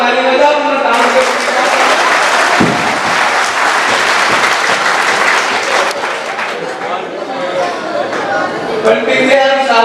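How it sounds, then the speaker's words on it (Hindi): Audience clapping at a Hindi comedy poetry show, loud continuous applause with whoops and crowd noise, voices mixed in throughout. "सारे लोग ताली बजाओ"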